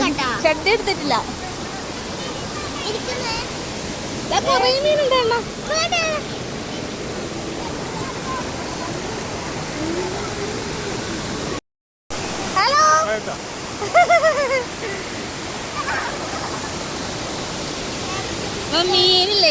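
A waterfall in a rural village setting roars as a constant broad rush of water throughout, with people talking and calling out over it, briefly cut off near the middle.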